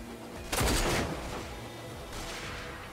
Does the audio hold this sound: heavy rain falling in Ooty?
no